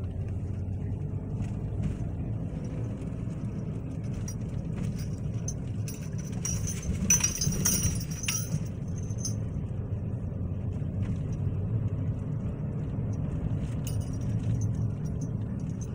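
A car engine hums low and steady from inside the cabin while driving, with light jingling rattles and brief clinks mixed in over the continuous road drone.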